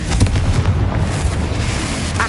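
A Confringo spell explosion in a video game erupts as a loud, sustained booming roar filling the whole clip, with no voices present.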